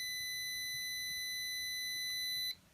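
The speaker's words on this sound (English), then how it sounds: "the red LED will be lit and the buzzer will sound as soon as my hand is with less than 2 inches from the sensor" A piezo buzzer on an Arduino ultrasonic-sensor alarm circuit emits a steady, piercing high-pitched tone held for over two seconds, then cuts off abruptly, close and alone.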